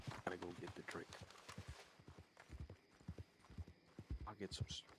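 Horse hooves clip-clop steadily at a walking pace, close and clear, as people talk over them throughout.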